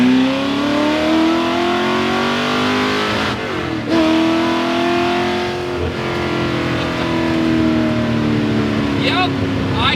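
A Ford GT40 race car engine roars loud and close, climbing through the revs in rising sweeps, with a brief dip at a gear change before it pulls hard again.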